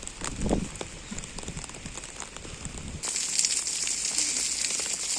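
Rain patters steadily on surfaces at an outdoor market, a dense crackling hiss with scattered close drops, growing heavier and brighter partway through, with faint movement beneath.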